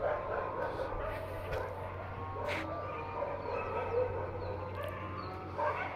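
Dogs bark and yip repeatedly near a home, sharp bursts scattered over a steady background, with someone talking between and over the barks.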